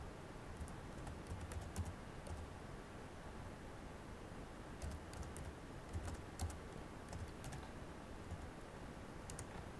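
Rapid clicking of a computer keyboard as someone types a search query, steady bursts of keystrokes close up over a faint hiss, with no talking.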